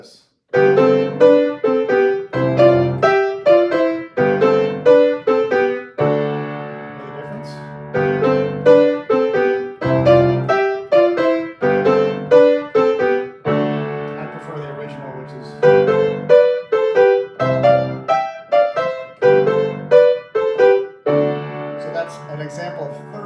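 Guitar melody played in harmonized sixths, with steady plucked double notes in phrases and brief pauses, loud and clear with no talking.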